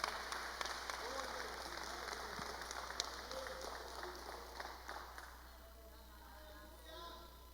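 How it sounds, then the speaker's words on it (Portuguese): Congregation applauding during a church service, a steady wash of clapping from many hands that fades toward the end, with a voice speaking over it. "Você pode dar uma salva de palmas ao Senhor."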